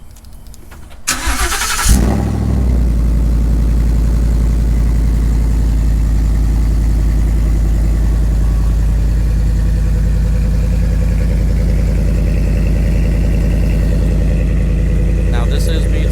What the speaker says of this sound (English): I'll go ahead and give the truck a start.